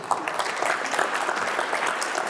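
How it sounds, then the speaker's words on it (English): A brief burst of audience applause rings out in a debate hall in Doha, with dense, lively clapping lasting a couple of seconds. "Little clap over here."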